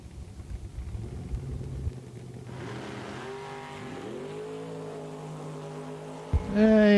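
Camaro and Mopar drag cars at a bracket race at Eddyville Raceway Park, engines idling and then climbing in pitch as they rev and pull away, ending in a sudden loud close burst of acceleration.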